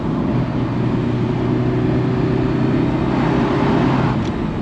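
Front-engined V12 Ferrari cruising on a country road, a steady low droning engine note with even, unchanging pull and broadband road noise throughout.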